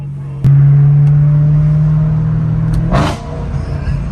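A car engine fires up with a sharp bark and settles into a loud, deep idle rumble, then blips upward in a brief rev before easing down.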